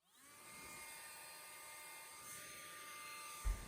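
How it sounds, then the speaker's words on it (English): A blower runs to clear dust from an asphalt driveway repair, a steady, close and moderately loud whine that holds for several seconds with no talking, ending in a brief low thump. "I have to use the blower, otherwise the dust sticks to the repair material, which is sticky like tar."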